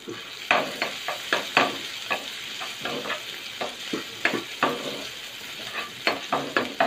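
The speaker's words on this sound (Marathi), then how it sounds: "तेल आता गरम झालेले आहे। यामध्ये आपण लसूण जे बारीक चॉप करून ठेवलेली, कटिंग करून ठेवलेली ती घालणार आहे।" Finely chopped garlic and sliced ginger fry in hot oil for street-style veg fried rice, a steady close sizzle broken by frequent sharp scraping stirs of a spatula against the pan, with no talking.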